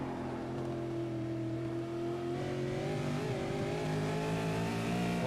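V8 Supercar race car engines roar in a sim racing game at Sandown, a loud, sustained droning whine with shifting overlapping pitches as several cars run together, steady and unbroken for the whole stretch.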